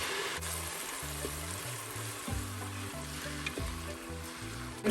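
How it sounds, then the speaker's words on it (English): Tomato puree sizzling and bubbling over golden-brown fried onions in an Instant Pot for a spicy Kolhapuri mutton curry, a moderate steady hiss with faint stirring, and nobody speaking. "Next we are going to add the tomato puree."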